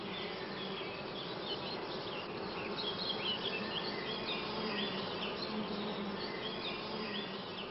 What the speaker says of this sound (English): A young bee emerges from its cell.